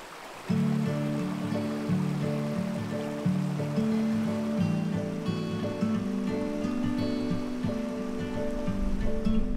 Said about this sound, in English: here we are at Tiffany Waterfalls here in Hamilton, Ontario